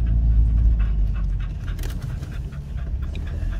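A dog pants rapidly and steadily on a hot day as a car leaves a neighborhood, the breathing close and loud over a low rumble.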